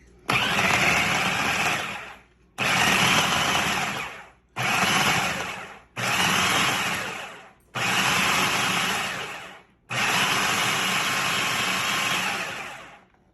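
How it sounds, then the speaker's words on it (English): A food processor pulses shortbread pie crust dough for a fresh blueberry pie, six loud whirring bursts of about one to three seconds each, separated by brief silences. "Then we'll just pulse it in the food processor"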